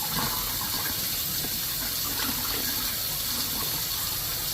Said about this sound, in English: rinse that root ball